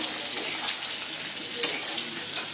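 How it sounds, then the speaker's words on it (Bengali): Marinated chicken pieces fry for chilli chicken in a pan, producing a continuous close sizzle and hiss with one sharp clink partway through. "আর চিকেনটা তো মেখে রেখেছিলাম সেটা আমি ভাজছি"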